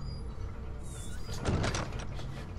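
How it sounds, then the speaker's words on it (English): A door swings shut in the horror game Amnesia, a short sliding scrape followed by a soft thunk, heard alone in a quiet, dim room. "I'm gonna close this door."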